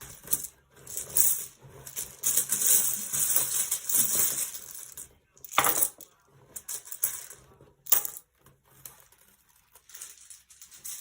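Small metal name charms jingle and clink repeatedly as they are sifted and pulled, close and crisp, in bursts separated by short pauses.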